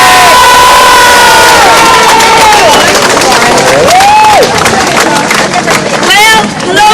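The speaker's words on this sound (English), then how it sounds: "give her a big round of applause" A large outdoor crowd at a City Hall protest rally cheers, whoops and claps loudly for someone speaker named Lindsay, with a continuous roar of shouting and babble and several high voices rising above the noise.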